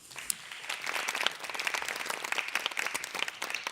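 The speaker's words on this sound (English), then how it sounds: "Please give our guests a warm round of applause." Audience applause at a panel event on aging and elder care, welcoming guests on stage: dense, steady clapping from many hands throughout, with no voices over it.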